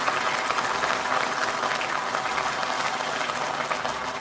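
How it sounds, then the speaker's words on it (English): An audience at a business awards summit claps loudly for the awardees, a thick continuous wash of many hands applauding at close range with no break. "Let's have a huge round of applause for all the awardees all together."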